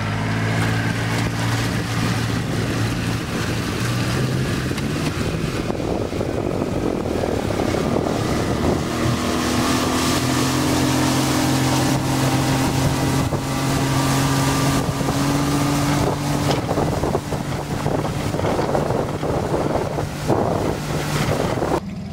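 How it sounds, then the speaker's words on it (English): A Yamaha 40hp four-stroke outboard engine drones loudly and steadily on the water, rising in pitch as the boat speeds up, with heavy wind buffeting throughout. "I have the boat in the water, we're gonna test the boat out"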